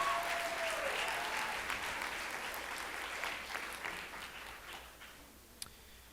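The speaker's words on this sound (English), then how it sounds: "let's give them one more round of applause for the unsung heroes of our pageant" A pageant audience applauds for the unsung heroes of the show, a dense, steady wash of many hands clapping that fades slightly toward the end, with one sharp louder clap near the close.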